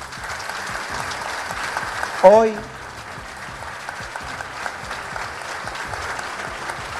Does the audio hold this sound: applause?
yes